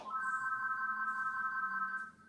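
A telephone rings with a sustained electronic tone, holding steady for about two seconds before cutting off, fairly loud in a quiet room with no talking.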